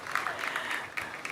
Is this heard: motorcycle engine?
no